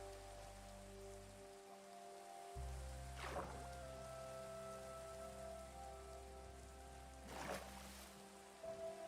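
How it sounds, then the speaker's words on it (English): Steady rain patters on the ground and water in the Minecraft video game, a constant soft hiss over looping ambient tones, with two brief louder swells partway through and no talking. "Oh, it's raining."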